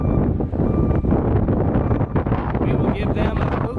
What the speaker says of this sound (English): Oh, here comes that wind again.